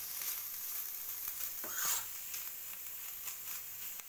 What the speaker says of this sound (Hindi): तो पनीर को हम भून लेंगे पहले